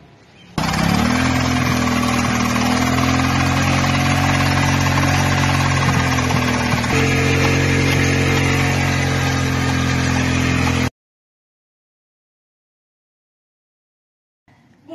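Small portable air compressor pump inflating a flat motorcycle tyre, switching on abruptly and droning loud and steady with a buzzing motor tone for about ten seconds before cutting off to silence.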